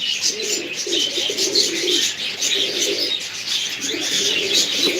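Baska pigeons coo in soft, repeated low phrases, close and clear, mixed with bright chirping and twittering from other birds in the background.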